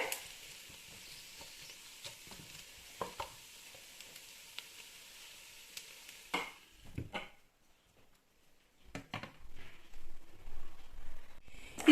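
Ripe tomatoes being stirred in a hot pan for butter chicken, a soft steady sizzle with scraping stir strokes, then a quieter stretch broken by a few clattering spoon knocks and rising frying hiss.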